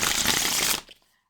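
A deck of tarot cards is shuffled close up with a dense papery riffle that runs for under a second, then stops abruptly into near silence.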